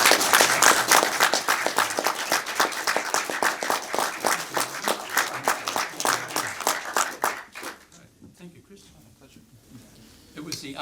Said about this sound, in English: please give John and Ivan a round of applause